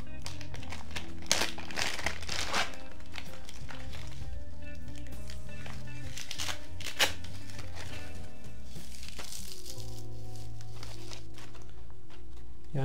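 A large plastic bag crinkles and rustles up close while action camera mounts and accessories are unboxed, with bursts of handling and scrunching spread across the whole stretch.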